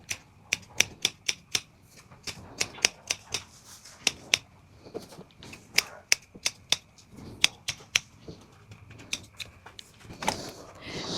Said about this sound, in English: you start snipping away all that yarn from one side and the other